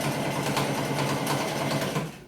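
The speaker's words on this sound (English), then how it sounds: "And now, magically, my sewing machine's back." Home sewing machine stitching a polo shirt placket, a steady rapid mechanical whir running close and continuous before stopping at the end.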